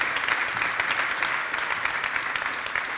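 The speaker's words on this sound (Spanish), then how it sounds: "les damos un aplauso" Audience applause at an anniversary event for the Basque rail network agency Euskal Trenbide Sarea, steady crowded clapping at moderate volume that continues evenly for a few seconds with no talking over it.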